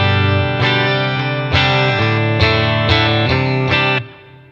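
A Telecaster electric guitar plays through the clean channel of a Boss Katana 50 amp, with sustained ringing chords struck several times in a slow rhythm before the final one fades out, loud and close.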